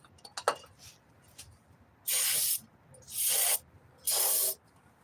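A few faint clicks and knocks come first, then three loud, close hissing sprays from an aerosol can of parts cleaner, each burst lasting about half a second, used while working on a 2005 Hyundai Sonata 2.4 L water pump.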